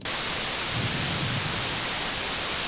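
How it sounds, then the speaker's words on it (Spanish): White noise generated in Ableton Live as a riser sound, a loud, steady, broadband hiss that runs evenly throughout after an abrupt start. "de senoidal le vamos a seleccionar el noise white, ruido blanco"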